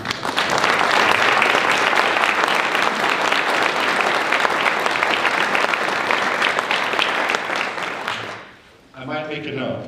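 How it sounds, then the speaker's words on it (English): Sustained, dense applause from a crowd at an elementary school ribbon cutting ceremony, loud and steady for about eight seconds before it fades out and a voice begins speaking. "I want to give you a round of applause as well."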